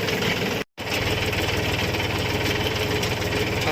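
Tractor engine running steadily during chickpea threshing in a field, a loud continuous throbbing drone with a rapid mechanical pulse, close by, with a brief dropout near the start.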